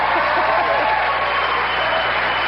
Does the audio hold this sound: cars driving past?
no